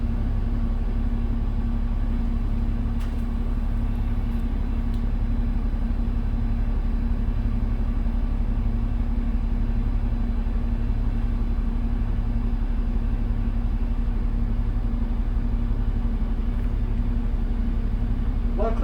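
Steady low diesel drone of a 2001 New Flyer D40LF city bus on Calgary's route 12 at night, running continuously and evenly throughout the ride with a constant low hum, no voices.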